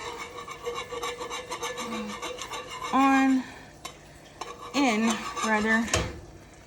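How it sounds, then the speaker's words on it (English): A metal whisk beating in a non-stick pan, rapid rhythmic scraping and rasping strokes with tonal metallic squeaks, close and loud, with no talk. "So just keep whisking and whisking until it's all incorporated"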